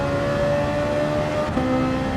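Race car engine in Gran Turismo 7 held at high, steady revs, then shifting up with a slight pitch jump midway, loud and continuous with no talk over it.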